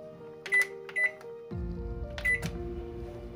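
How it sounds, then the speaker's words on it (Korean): A kitchen microwave oven is set going to steam eggplant. A few bright electronic beeps come first, then a low, steady running hum starts midway and continues alongside another pair of beeps. "전자레인지 돌리는"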